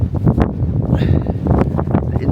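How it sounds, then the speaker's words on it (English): Gusts of wind buffet a TFS Enran2 tent pitched on a Lake District mountain, a loud, close roar and rustle of flapping fabric with a voice speaking over it. "That wind's hitting that side there."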